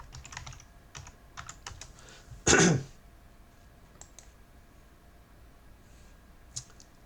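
Credentials are typed on a computer keyboard, giving sparse soft key clicks in short clusters, interrupted by one brief loud throat-clearing cough near the middle, with no speech.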